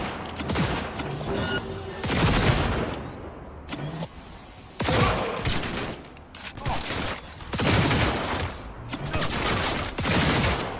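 Repeated bursts of gunfire from Cyberpunk 2077 come in several loud volleys separated by short gaps, with game effects running between them.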